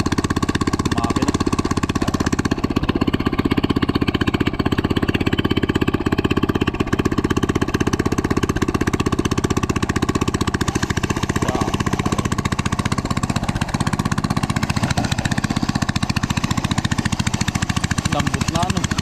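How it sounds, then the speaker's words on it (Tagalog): A hand tractor engine warming up in a rice field idles loudly and steadily up close, a continuous rapid mechanical chugging that holds the same pace throughout without revving. "pinapainit lang po yung motor"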